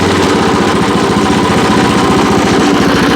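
A WEIMA WM900M-3 walk-behind tiller's engine runs loud and close, a steady rough throb that rises as it is revved, with no talking over it.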